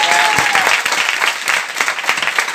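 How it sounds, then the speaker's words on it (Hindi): An audience at a network marketing meeting bursts into loud, sustained applause, dense clapping filling the room without a pause for the whole stretch. "एक बार जोरदार ताली बजाइए"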